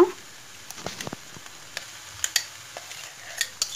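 Mangalorean chickpea sukka (kadle balyar) stirred in a pan: soft, scattered scraping and clinking strokes over a faint sizzle, close and fairly quiet.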